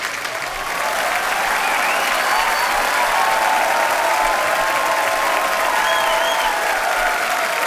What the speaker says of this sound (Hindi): आपकी जोरदार तालियों के बीच इनवाइट करना चाहूंगा वेरी टैलेंटेड श्रेयस तलपड़े।